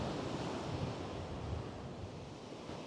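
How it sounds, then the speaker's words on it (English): Rough surf rolls in and breaks steadily, a continuous broad wash of water with wind noise buffeting underneath, no voices. "A few waves coming in, a little bit rough."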